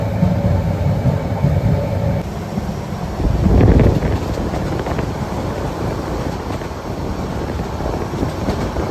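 A passenger train runs overnight to Cox's Bazar, heard from inside a sleeper cabin as a loud, steady rumble and rush. A heavier surge of rattling swells briefly partway through.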